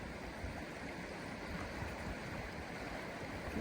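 A fast-flowing river on New Zealand's Te Araroa trail near Top Timaru Hut rushes in a steady, broadband wash, close and continuous, with no voices.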